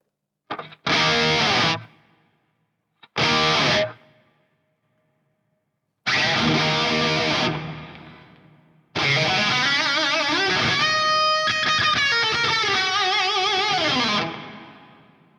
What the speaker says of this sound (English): That's a cool reverb.